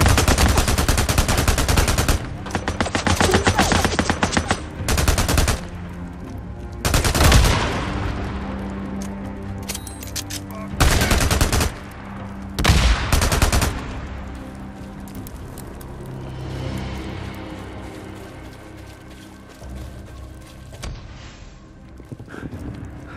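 Repeated gunfire bursts in the video game Days Gone, loud and close, in several sharp clusters over the first half, with an intense battle mix and hoofbeat-like clatter, then tapering to quieter background action.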